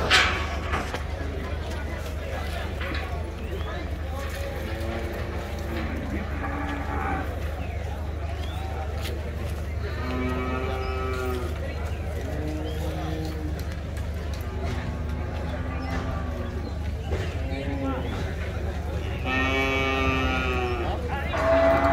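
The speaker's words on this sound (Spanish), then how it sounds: "Vacas. Ah, mira que hay un tabuey grande." Cattle at a municipal livestock market in Santa Elena, Usulután, El Salvador, moo repeatedly in long, loud lowing calls over a steady background rumble, with people talking between the calls.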